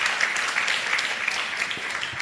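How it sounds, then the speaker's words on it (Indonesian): An audience at a leader and member training session breaks into steady applause, many hands clapping together in a sustained, moderately loud burst without a break. "Oke, tepuk tangan dulu kepada yang timbul tenggelam."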